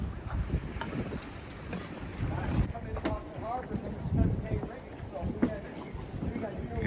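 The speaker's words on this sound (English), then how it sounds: "responsible for this overachieving wind today" Strong wind buffets the microphone in low, rumbling gusts, with faint voices underneath throughout.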